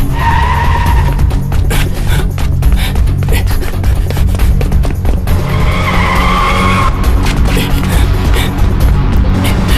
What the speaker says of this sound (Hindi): चल चल चल गाड़ी चला जल्दी।